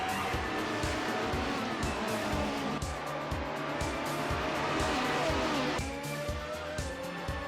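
Race cars in an F1 video game set at the Hungarian Grand Prix scream at high revs throughout, with gear changes and brief tyre squeals, loud and continuous with no talk.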